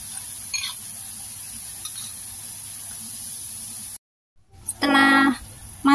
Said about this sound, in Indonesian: Kemudian tumis bumbunya sampai berbau harum dan matang.